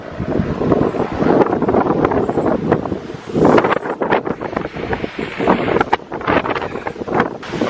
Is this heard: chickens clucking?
no